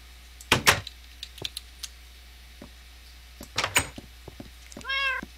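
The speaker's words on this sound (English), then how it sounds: "And here we have a little cat." A Minecraft cat gives a clear, close meow near the end, following a few sharp clicks and knock-like taps from the blocky game world, with no talking over it.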